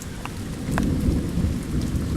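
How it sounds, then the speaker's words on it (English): Heavy rain pours outside during a thunderstorm that has knocked out the power, a dense steady hiss with a low rumbling swell of thunder under it and faint drips, no voices. "outside there's a great deal of wind and rain"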